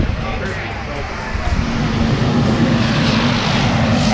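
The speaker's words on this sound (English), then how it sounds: "I hear our airplane running over there" A loud airplane engine drones steadily nearby and swells slightly louder partway through, with faint voices mixed in beneath the roar.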